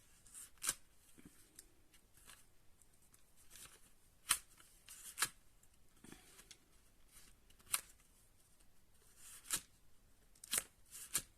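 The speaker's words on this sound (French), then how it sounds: "vous prenez votre carte et vous poussez" Paper flip-up card from a shabby chic action block being pushed by hand to work its mechanism, giving a series of sharp papery snaps and rustles spaced irregularly, close and fairly quiet, with no talking.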